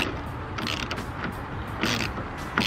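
Ratchet backing out a rusted bolt during a Type R wing install on a car, a steady run of close mechanical clicking with brief louder bursts, no talking.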